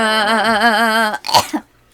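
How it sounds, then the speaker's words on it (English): After a sustained wavering sung or hummed tone, a short harsh cough or throat clearing bursts out, then silence. "You're coughing now."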